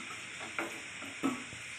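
Fried cut potatoes in a pan of oil sizzle faintly and softly, with two brief scraping clinks as they are stirred or lifted out.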